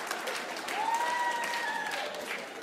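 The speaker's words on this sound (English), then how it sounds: "I see some of you guys clapping." A comedy special audience claps for a few seconds, a dense, steady patter of many hands filling the room, with a faint whoop or tone riding over it.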